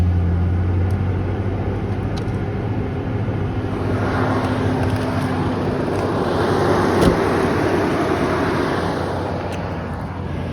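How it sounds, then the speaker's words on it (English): A Toyota 4Runner fires up on a cold morning in the mid-20s and settles into a steady, fairly loud engine rumble, with a broad hiss of noise building through the middle of the run. "We'll fire up the 4Runner."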